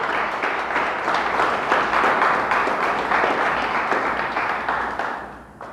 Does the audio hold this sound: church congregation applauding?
yes